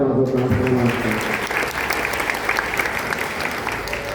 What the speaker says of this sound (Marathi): या गोष्टीसाठी तुम्ही टाळ्या वाजवता असं मला वाटतं.